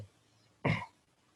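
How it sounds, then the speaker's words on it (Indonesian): A single short cough, close and fairly loud, in an otherwise quiet moment. "Saya sudah batuk"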